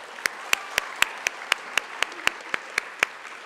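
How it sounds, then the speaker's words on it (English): Sharp, evenly spaced claps at a high school honors night ring out about four times per second, crisp and close, like a single person clapping steadily. "How about a nice round of applause for row 2?"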